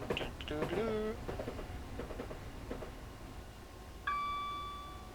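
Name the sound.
train DMR bell ding in Train Simulator 2020 video game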